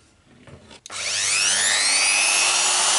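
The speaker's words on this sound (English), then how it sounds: "I think this is a very nice occasion to test my brand new machine to deburr a little bit these weird angles here." A brand-new deburring machine grinds the angled edges of a threading tool holder, starting with a faint scrape then spinning up into a loud, steady high-pitched whir that holds to the end.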